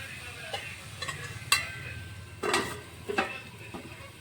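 White gourd and fish head being stirred in a pan over low heat for a Bengali recipe, with a few separate metallic scrapes and clinks of a spatula over a soft background sizzle, close and without talk.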